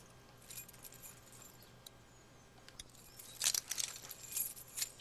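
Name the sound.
keys picked up in the video game The Walking Dead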